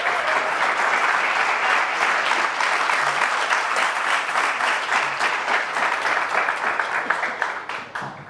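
Sustained applause from a seated audience at a business talk, steady dense clapping across the whole stretch that thins slightly near the end, with no speech over it.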